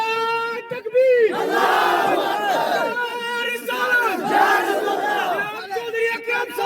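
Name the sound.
crowd chanting slogans at political rally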